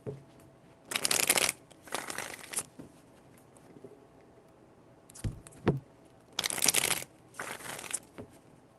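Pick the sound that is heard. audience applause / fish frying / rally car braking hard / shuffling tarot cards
shuffling tarot cards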